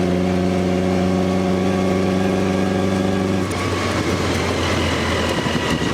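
A supercharged Brooklands racing car engine pulls under load with a loud, steady harmonic drone that turns rougher and noisier partway through.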